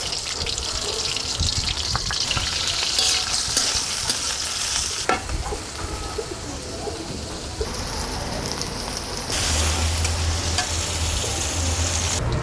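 Chopped onion and green chilies fry in oil with a loud, continuous sizzle and crackle, steady and close, with a brief clatter partway through and a shift in tone near the end.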